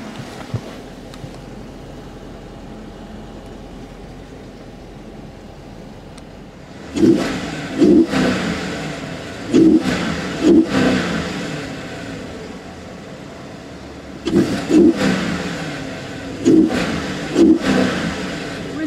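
2015 Dodge Charger SRT8 V8 revved in park, idling quietly at first, then several sharp throttle blips that rise and fall in two bursts, loud and close.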